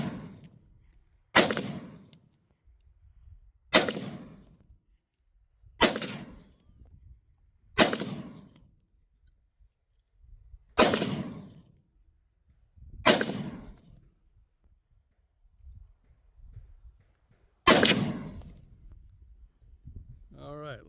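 Gunshots ring out at a shooting range, eight sharp cracks spaced a couple of seconds apart, each with a short ringing tail, heard from a distance with faint background noise between.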